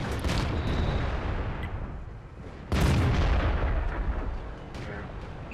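Two heavy booming tank gun shots from World of Tanks gameplay, a KV-85, each a loud blast with a long rolling decay, the second about three seconds after the first.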